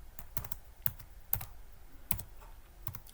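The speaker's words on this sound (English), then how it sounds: "You want to type in" Close, quiet keystrokes on a computer keyboard while searching in Linux Mint's software manager, a handful of distinct clicks in an uneven rhythm, with no voices.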